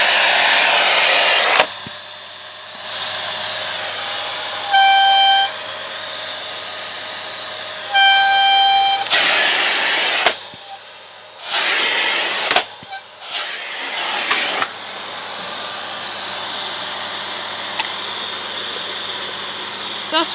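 A Miele C2 Compact Powerline vacuum cleaner runs loud and steady with a broad hiss, its pitch shifting as suction changes, with whistling tones and several brief drops where the airflow is cut or blocked.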